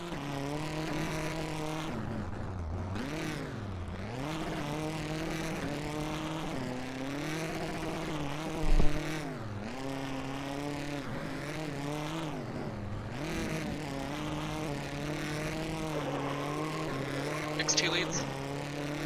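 Rallycross race cars at a NASA Rallycross Challenge round at Bent Twig drone steadily, engines rising and falling in pitch as they accelerate and shift, while a commentator talks over the racing.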